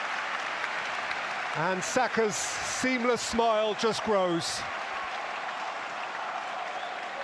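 Stadium crowd applauding Arsenal's football against Crystal Palace in a Premier League match, a steady distant wash of clapping running throughout beneath a commentator's voice.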